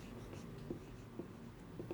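Pen scratching figures onto paper, soft rhythmic strokes with a few sharper taps, close and quiet, without speech.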